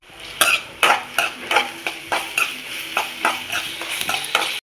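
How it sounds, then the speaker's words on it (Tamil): Ginger garlic paste is stirred into softened onions in a pan, with a spoon scraping in a steady rhythm of about a dozen close, crisp strokes over a constant low sizzle. "இஞ்சி வெள்ளைப்பூடு பேஸ்ட் ஆட் பண்ண நல்லா கிண்டி கொடுங்க"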